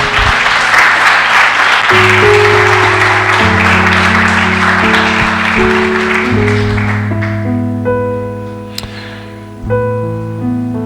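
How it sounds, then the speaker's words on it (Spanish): A church congregation claps loudly in praise during a Spanish-language service, the applause fading as sustained organ or keyboard chords rise and take over, ringing on alone toward the end. "Dale un fuerte aplauso al Señor, aleluya."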